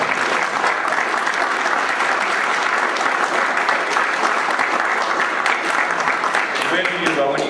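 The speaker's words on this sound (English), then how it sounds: "give her a round of applause" An audience claps loudly and steadily at an order-signing event, with sustained applause filling the whole clip and faint voices underneath.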